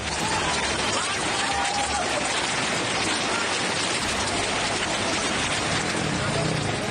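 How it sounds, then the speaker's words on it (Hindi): Heavy rain pours in the Kedarnath valley during a flash flood, a dense, steady broadband roar of rushing water and downpour that stays loud and unbroken throughout. "केदारनाथ घाटी में भारी बारिश के बाद फ्लैश फ्लड के हालात पैदा हो गए"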